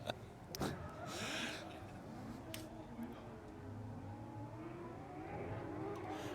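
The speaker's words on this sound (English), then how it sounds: "he's drifting backwards" A Formula Drift competition car drifts backwards on track during seeding in Salt Lake City, its engine droning and revving steadily at mid distance with tire noise, while commentators talk over it.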